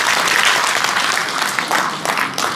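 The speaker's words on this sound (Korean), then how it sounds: "여러분 박수 한번 보내주시기 바랍니다" Audience applause at a book launch event in Daegu, a dense, loud burst of clapping from a crowd that holds steady and tapers slightly at the end.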